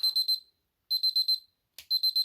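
Electronic thermometer alarm beeping in quick bursts of four high-pitched tones, repeating three times with short pauses between, clear and close.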